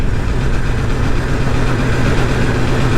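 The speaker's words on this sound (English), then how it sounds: "I press the ignition button. So pit lane limiter is active. And now I can give throttle." A 2022 BMW M1000RR motorcycle engine runs with its pit lane limiter active, producing a loud, steady, unbroken drone with no talk.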